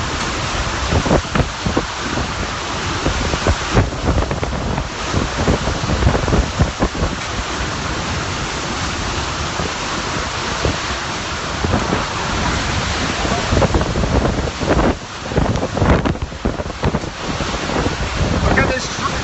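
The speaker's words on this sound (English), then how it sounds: "Extremely destructive 140-mile-an-hour winds are probably coming on shore now." Destructive hurricane winds of about 140 mph roar ashore in a steady loud rush of wind buffeting the microphone, with gusts and scattered knocks from flying debris throughout.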